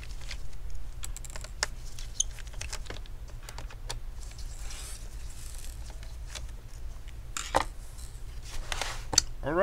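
Screws are removed from an Acer Aspire V3 575 laptop during disassembly: faint small clicks, taps and light metallic ticks scattered over a low steady hum, close up and without speech.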